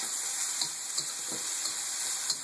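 White onions and broccoli fry in a pan with a steady, soft sizzle, broken by a few light clinks and scrapes of stirring.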